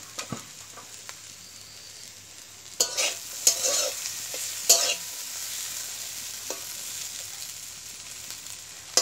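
Potatoes fry in a pan on a stove, a soft steady sizzle broken by several scraping stirs and clanks of the spatula, with no talking.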